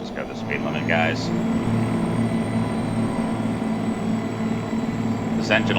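A Mack R truck with a two-stroke engine drones steadily in American Truck Simulator, a constant low engine hum running under a voice.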